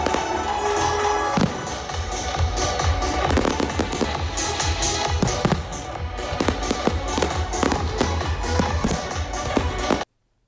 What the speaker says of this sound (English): the fireworks are exciting enough without the music